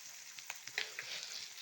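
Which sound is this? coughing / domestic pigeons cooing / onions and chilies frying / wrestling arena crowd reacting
onions and chilies frying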